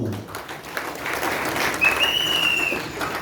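A church congregation applauds to acclaim the Lord, with sustained, even clapping filling the whole moment and a brief high whistle-like tone rising over it midway.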